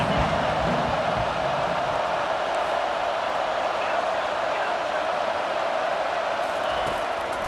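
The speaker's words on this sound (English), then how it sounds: "Decibels rising as the crowd gets behind this defense on 3rd down." Football stadium crowd roaring steadily behind the defense on a 3rd down, a dense, sustained wash of cheering and noise that holds loud and constant throughout.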